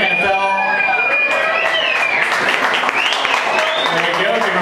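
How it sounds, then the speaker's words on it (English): A studio audience applauds at a Baltimore sports talk quiz final, a dense wash of clapping and cheering with a voice talking over it throughout. "give him a round of applause."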